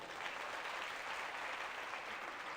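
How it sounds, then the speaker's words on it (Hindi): An audience at a religious discourse gathering in Auraiya claps steadily, a dense even wash of applause held for the whole stretch, fairly distant and quiet. "आनंद आ रहा तो ताली बजा दीजिए।"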